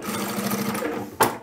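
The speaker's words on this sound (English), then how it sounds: "I've stitched that down" A sewing machine stitches down a seam on a homemade supermarket shopping tote, running in a brief steady burst of rapid needle hum before a sharp clack near the end.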